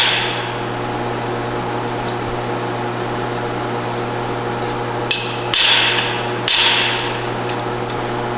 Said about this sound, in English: whack your lock side of the rivet